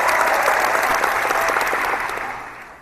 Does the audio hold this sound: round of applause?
yes